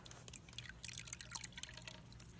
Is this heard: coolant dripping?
yes